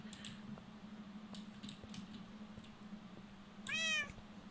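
A cat meows once in the Minecraft video game, a clear rising-and-falling mew near the end over a steady low hum and scattered faint clicks.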